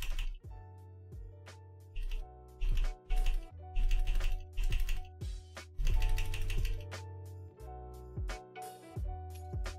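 Mouse clicks come in rapid bursts during a session of the browser game Shakes & Fidget, close and crisp, with short pauses between the clusters and no talk over them.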